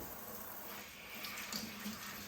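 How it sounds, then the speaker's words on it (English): Mushrooms being rinsed under running tap water in a kitchen sink, a steady faint hiss and splash of flowing water throughout with slight shifts as the mushrooms are moved in the stream. "So we're rinsing them off good."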